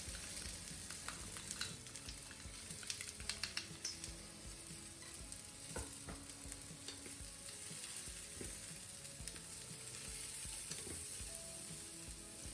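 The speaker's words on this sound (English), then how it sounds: "Mix the masala well." Peanuts being stirred with sundal masala in a hot pan, a soft steady sizzle with scraping and clicking spoon strokes throughout, close and quiet.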